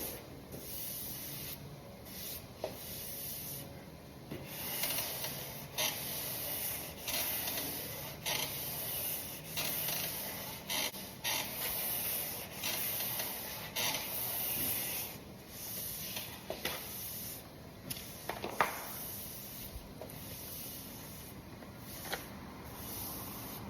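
A sanding block stroked back and forth across a car body panel during paint prep, a steady rhythmic rasping scrape up close, repeating in long passes with brief pauses.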